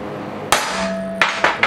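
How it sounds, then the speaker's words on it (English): A hammer strikes a center punch on metal, giving one sharp ringing tap followed by three quicker taps close up, with a brief sustained metallic ring between. "When you're center punching something, fight that urge to double tap it"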